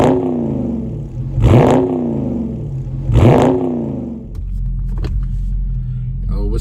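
A 2020 Dodge Charger Scat Pack Widebody with the 392 engine revs hard twice in close succession, each burst rising and falling over a deep rumbling idle, then settles into a steady low drone with light clatter.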